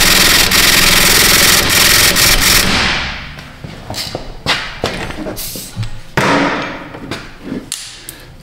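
An impact wrench fitted with an extension hammering at a rear wheel bearing bolt on a Hyundai Santa Fe, a loud sustained rattling burst followed by a string of short sharp blows and clanks.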